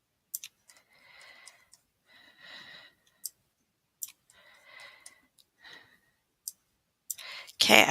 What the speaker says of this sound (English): Okay, I want to click on the bold button.